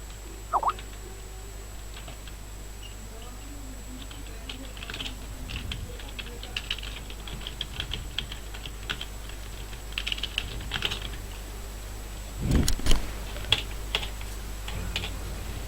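Keys clatter on a computer keyboard in quick, irregular bursts of light taps, close and steady beneath a low background hum, with one louder clunk near the end and no talk over it.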